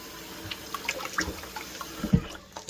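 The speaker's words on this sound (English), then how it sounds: "I'm just going to rinse this again." Running tap water splashes over washed-flour seitan dough as it is rinsed, a soft, low, steady patter with small drips and squelches, close but faint, with no talking.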